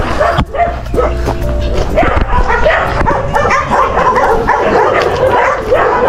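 Several dogs bark and yip excitedly nearby, overlapping in a loud, continuous chorus, with some whimpering mixed in.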